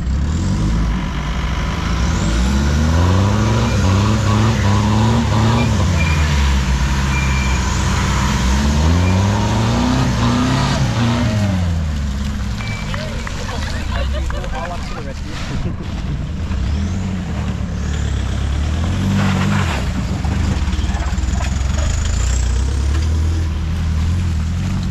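A Toyota Tourer V car drives at Glasshouse, its loud engine rising and falling in repeated swells through a run, with occasional voices underneath.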